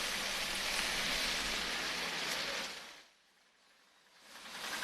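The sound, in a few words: heavy rain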